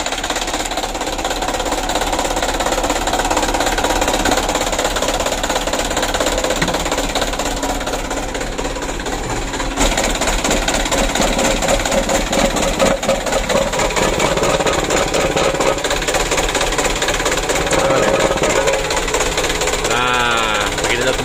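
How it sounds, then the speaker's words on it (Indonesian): An engine runs at a steady idle, its oil thickened into jelly-like sludge, producing a continuous dense mechanical drone with a fine rattling texture that holds level for the whole stretch. "kita hidupkan dulu mesinnya teman-teman"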